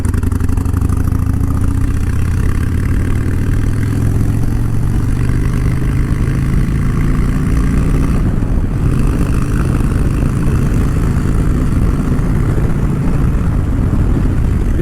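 Harley-Davidson Twin Cam 103 V-twin motorcycle engine under way, a loud, continuous low rumble with gradual pitch rises as it pulls through the gears, close and steady for the whole stretch.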